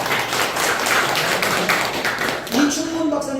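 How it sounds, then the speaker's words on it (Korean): Audience clapping at a patriotic society's security lecture, a dense patter of hands that fades as a voice starts near the end. "박수 한번 해드리세요"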